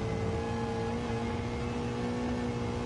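A steady, droning race car exhaust hum holds at a constant pitch throughout, a race car idling or cruising in a video game, with no talk.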